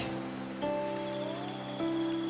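Steady rain patters on surfaces in the Infinity Nikki game, a soft even hiss layered under sustained tonal music notes, with no voices.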